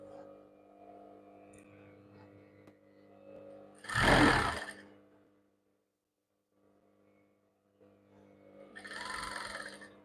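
A sewing machine stitches a V-neck blouse in two short, loud bursts of rapid mechanical whirring, separated by near silence and a low background hum.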